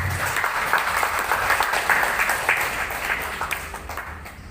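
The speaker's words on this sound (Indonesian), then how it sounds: "Mari kita tepuk tangan untuk kita." Audience at a cooperative education and training session in Papua claps steadily for several seconds, a dense, even wash of applause with no talk over it.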